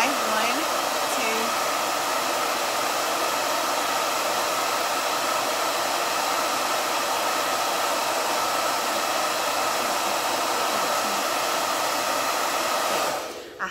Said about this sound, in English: I just get my blow dryer, turn it on hot, and I go for about 15 seconds